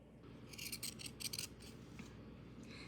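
Pinking shears cut through pillowcase fabric to finish raw edges: a quick run of soft, crisp snips that comes close but fairly quiet, then fades to near silence.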